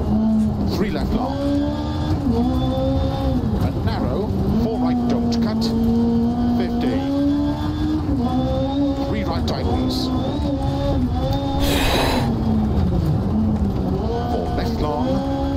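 Rally car engine held at full throttle in Dirt Rally 2.0, a loud, continuous high revving whine rising and falling with gear changes, close and dominant, with a voice talking over it.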